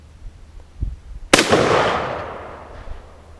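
A single sharp rifle shot cracks from a 1953 Tula-built Russian SKS fired at targets outdoors, loud and close, followed by a long rolling echo that fades away.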